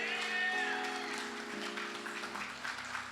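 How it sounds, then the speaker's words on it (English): Sustained applause from an audience at a Saturday morning community forum, a dense continuous wash of clapping with faint cheering and some musical tones underneath. "Come on, everybody, put your hands together."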